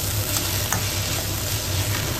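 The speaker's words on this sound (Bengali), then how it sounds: "মোচাটা মেনলি ভাজা ভাজা হবে একটু, আর জাস্ট 2-3 মিনিট মতন আমি ভালো করে নাড়িয়ে চালিয়ে গ্যাস অফ করে দেবো।" Chopped banana flower frying in a pan, a steady close sizzle with soft stirring scrapes running continuously, no voices.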